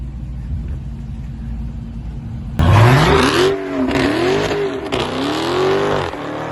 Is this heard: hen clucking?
no